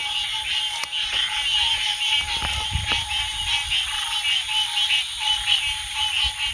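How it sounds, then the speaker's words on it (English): A dense chorus of hundreds of frogs calling at once in the Everglades, a continuous loud trilling and croaking wall of sound that fills the night air without pause. "hundreds and hundreds of frogs that are calling"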